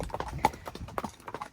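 Horse hooves clip-clop in a quick irregular series of hard knocks, fairly close and clear, with no talking.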